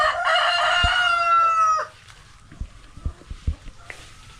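A rooster crows loud and close for about two seconds in a large chicken pen, then fades to scattered clucks and soft thumps from the flock.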